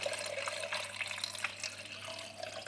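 Photographic developer, Rodinal diluted in water, pours steadily into a film developing tank, a continuous close liquid splash and gurgle for a few seconds.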